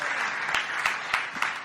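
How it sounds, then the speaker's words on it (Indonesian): A church congregation applauds the praise and worship team, a steady wash of hand claps with a few sharper accents, filling the room without any talk over it. "Boleh nggak kasih tepuk tangan buat tim praise and worship yang luar biasa"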